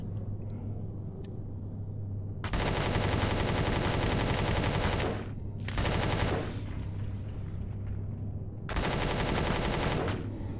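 Enemy automatic gunfire in the space survival game Empyrion - Galactic Survival, coming in three long, loud, sustained bursts with short quieter gaps between them.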